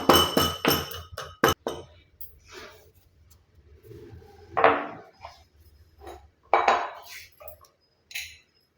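Whole cloves pounded with a pestle, a run of sharp rapid knocks at first, then scattered clinks and thuds from the grinding vessel, with no voices.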